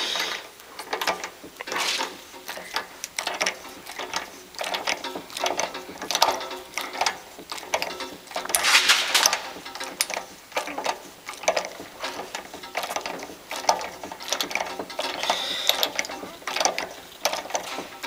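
A socket wrench ratchets against a stiff spark plug on a Honda GX140 engine, bursts of rapid clicking pawl strokes repeating irregularly and close up, with brief pauses between efforts.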